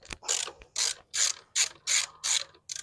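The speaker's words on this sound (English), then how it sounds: "just that 10 millimeter bolt. Get in there, take it loose." Close ratchet wrench loosening a 10 millimeter bolt on a Pontiac G6 or Malibu, about seven quick metallic clicking bursts in a steady back-and-forth rhythm, with no talk.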